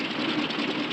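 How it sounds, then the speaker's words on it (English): An airplane engine in trouble drones steadily and loudly in a 1946 film scene, a dense, unbroken mechanical roar with slight pulsing and no voices. "Engine trouble, sir."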